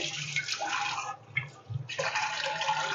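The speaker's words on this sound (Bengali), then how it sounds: "এই যে এরকম করে জল ভরতে হবে" Tap water splashes into a container set on a handkerchief in a cement basin, a hissing rush that briefly pauses and gurgles before pouring strongly again.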